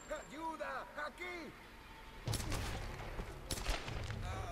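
A voice talks at first, then a burst of gunfire in Tomb Raider (2013) follows, several rapid sharp shots with a couple of louder cracks.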